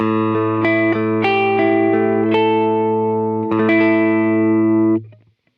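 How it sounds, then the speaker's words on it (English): An electric guitar plays sustained chords through the drive effect of a Kemper Profiler amp modeler, with light distortion. Each strum rings out bright and full before the last chord fades to silence, with no voices. "So this is the sound with the Kemper drive."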